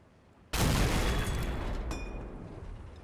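A big explosion in the Normandy '44 battlefield video game bursts out suddenly and loud, then rumbles and crackles on with debris for a few seconds, fading slowly.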